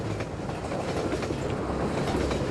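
A train passing in the Half-Life 2 video game, a continuous loud rumble with rhythmic clickety-clack of wheels on rails, close and steady for the whole moment.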